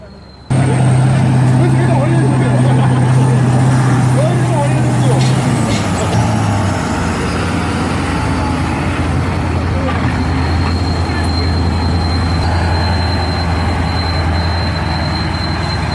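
Kirovets K700 tractor engine roaring steadily and loud under heavy load during oversize hauling work, a low droning rumble with a shifting pitch partway through, continuing unbroken throughout.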